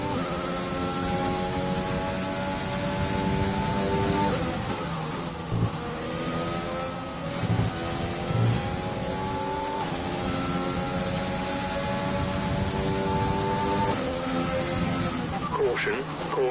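Race car engine in the F1 2020 video game at the Australian Grand Prix, a sustained high-pitched whine that holds steady with slight pitch shifts throughout, with a voice talking over it.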